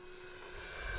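An OMP Hobby Challenger RC plane throttles up to full power, a steady electric whine rising in loudness through the short clip, with nobody talking.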